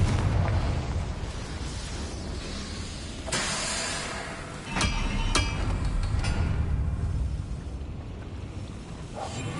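In Hogwarts Legacy, a Confringo blasting spell goes off with a booming explosion, then a rumbling, hissing wash and a couple of sharp bursts. Loud and close, with no voices.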